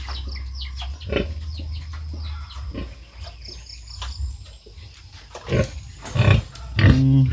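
A mother pig on a farm giving scattered grunts and snorts, close by, among intermittent rustling and knocking, with a louder grunting burst near the end, no talk.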